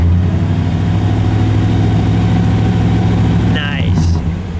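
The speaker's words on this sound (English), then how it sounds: "give it a rev. Go ahead." The 265 V8 of a 1956 Chevrolet Nomad station wagon rumbles loud and close with a deep, throaty idle, then a brief lift in revs near the end as a short squeak cuts through.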